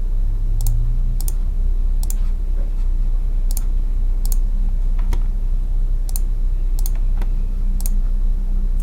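At a computer drafting in a CAD program, sharp, isolated keyboard and mouse clicks land every second or so over a constant low room hum.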